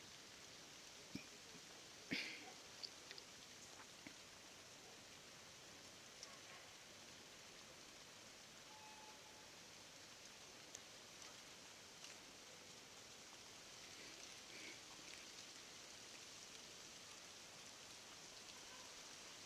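Steady rain falls and patters on surfaces, a soft continuous hiss with a few louder drips near the start.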